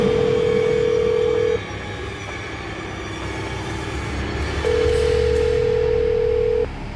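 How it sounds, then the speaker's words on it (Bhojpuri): A telephone rings unanswered in a steady repeating tone, with two long, loud ring bursts separated by a quieter pause and no voices. "अश्विनी बाबू फोन नहीं को उठावत"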